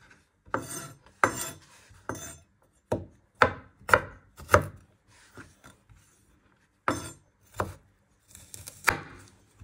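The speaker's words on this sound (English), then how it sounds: "And then you're just going to give in one final chop so it's nice and fine." A knife chops finely through ingredients for Thai meatballs on a board, close and crisp in quick irregular bursts of taps with short pauses, no voices.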